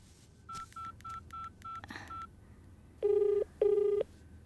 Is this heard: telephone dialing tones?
yes